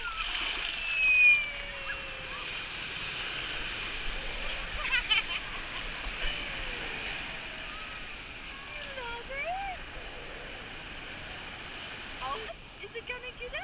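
Ocean waves wash and splash at a sandy beach, a broad rolling surf noise beneath excited voices and chatter, with a brief louder surge near the start.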